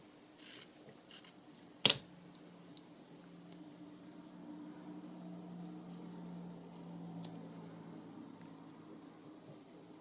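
Scissors snipping a piece off a handmade paper tag, a single sharp crisp cut standing out against quiet room tone, with a few faint rustles and small handling clicks before and after.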